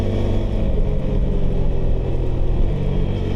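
Close, loud, continuous engine roar from a KTM 390 Adventure R motorcycle accelerating under way, with quickshifter gear changes, a dense, steady rumble without clear breaks.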